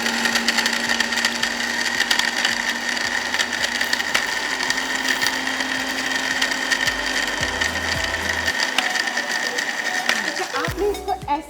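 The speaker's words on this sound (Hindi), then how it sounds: "आप इसको ब्लेंड कीजिए।" An electric blender grinds spices into a fine powder in a studio kitchen, a loud, steady whirring motor that runs throughout with rattling from the jar, then changes pitch near the end as it cuts off.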